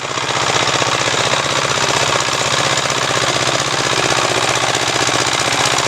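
A tractor working a field in northern Vietnam, dragging a toothed harrow back and forth to break up the soil: a loud, unbroken engine chug with a rapid pulsing rattle, close by and with no voices.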